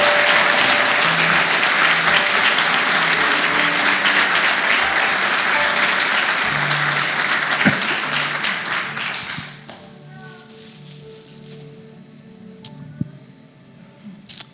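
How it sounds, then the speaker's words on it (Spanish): A church congregation claps loudly and energetically for the Lord during a sermon, a thick sustained roar of applause that fades after about ten seconds into quieter room sound with faint voices and scattered taps. "Si le va a dar un aplauso al Señor,"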